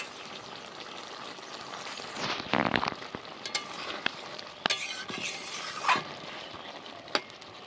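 A pan of small-fish curry with bottle gourd shoots simmers with a soft, steady sizzle and faint bubbling, broken by a few light clinks of a utensil.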